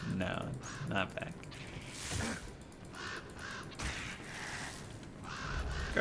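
Ravens cawing in a Hardcore-mode video game speedrun, repeated harsh caws over a busy game soundscape with clicking and a voice talking now and then.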